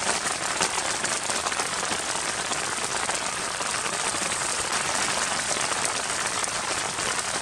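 Steady rain pours on a mountain campsite, a dense even hiss of drops drumming on surfaces, close and continuous throughout with no voices.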